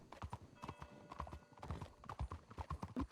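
Horse hooves clip-clop in a video game as a rider moves away at a brisk, even gait, the hoofbeats close and distinct with a brief whinny-like tone.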